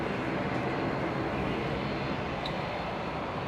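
An Air New Zealand Boeing 777 taking off from runway 01 left at Brisbane International Airport, a broad, steady engine roar heard from a distance and holding even throughout, with no talk.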